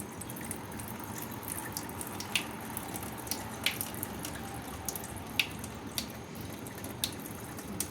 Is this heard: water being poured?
yes